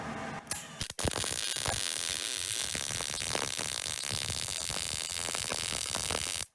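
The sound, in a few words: welding practice on steel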